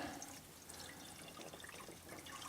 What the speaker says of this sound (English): I can just fill it up with some water and dump it in there